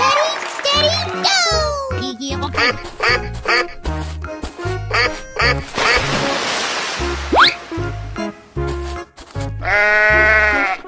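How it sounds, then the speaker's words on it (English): Cartoon sheep bleats and duck-like quacks ring out over bouncy music and effects in a children's animal animation, with a voice calling out along the way. "Sheep."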